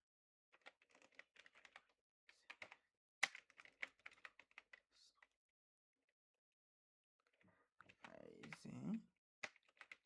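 Bursts of light clicking keystrokes on a computer keyboard while a title is typed, quiet and close, with a soft thud and brief rustle near the end.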